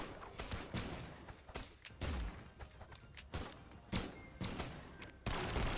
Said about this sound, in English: I'm going a little crazy with my gun now